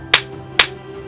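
Two crisp hand claps spaced about half a second apart, close and clear over a faint steady hum, marking a counting beat for young children learning numbers.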